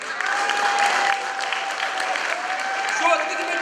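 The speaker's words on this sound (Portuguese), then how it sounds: "senhora Teresa, Queen de Batuque, mandava uma salva de palmas" Sustained applause from a crowd at a Cape Verdean cultural night, dense clapping throughout with a few whistles and voices mixed in.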